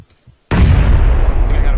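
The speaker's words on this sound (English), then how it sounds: "Gonna throw another nade at that." A grenade blast in a first-person shooter video game, one sudden loud boom bursting in after a near-silent moment and rolling on with a dense, rumbling decay that fills the rest of the moment.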